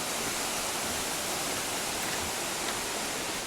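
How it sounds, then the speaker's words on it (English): A waterfall in the Great Smoky Mountains roars in a constant, broad white rush of falling water, loud and steady with no voices over it. "So we should see the falls here any second."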